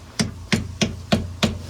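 A hammer strikes the battery terminals on a Conqueror tank: five sharp metallic blows at a steady, even rhythm, close and loud, with no talking.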